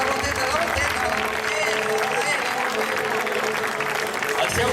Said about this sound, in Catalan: Un aplaudiment ben fort per al novato Steven!